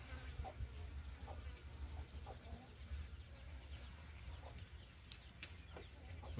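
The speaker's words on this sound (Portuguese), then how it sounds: "tem uma galinha aqui também." Chickens in a henhouse give scattered soft clucks over a low steady background hum, faint and intermittent, with a sharper call near the end.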